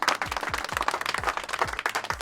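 A small group claps for a girl named Lania during a village outing in Kanarwe, quick uneven hand claps repeating throughout, moderately close with a lively room-like roughness.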